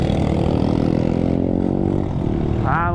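A motorcycle engine with a broken clutch lever or cable drones steadily and close, a loud continuous idle-to-cruise hum with a slight dip in pitch near the end and a brief higher whine at the close.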